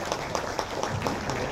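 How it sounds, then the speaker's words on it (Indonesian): At a Bank Indonesia forum, an audience greets an arriving guest with lively applause, a dense burst of clapping with a slightly rhythmic pulse that sounds moderately close. "tepuk tangan yang paling meriah"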